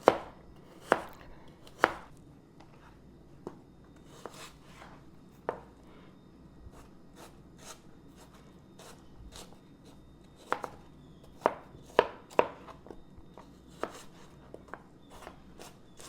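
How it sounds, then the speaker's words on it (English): A knife chops apples on a cutting board in irregular sharp taps, close and fairly quiet, with some quicker clusters near the end and no talking. "I'm chopping the last apple"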